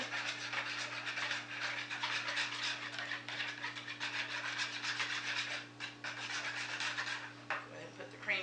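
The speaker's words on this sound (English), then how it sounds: "whisk the eggs and the sour cream together" Eggs and sour cream are whisked together in a bowl in quick, continuous scraping strokes, close and fairly quiet over a steady low background hum.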